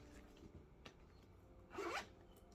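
A zipper being pulled on a vintage leather handbag, one quick rasping zip of under half a second, fairly close and clear against a quiet room.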